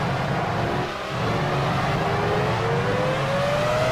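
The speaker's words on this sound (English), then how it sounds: "God, listen to the traction control." A Formula One racing car in the F1 Challenge 99-02 video game, its engine note rising steadily as it accelerates, with the stuttering, buzzing traction control cutting in, loud and close with a brief dip near the start.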